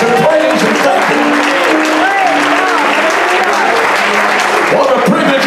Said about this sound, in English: come on, clap your hand to the Lord and give God some praise and thank Him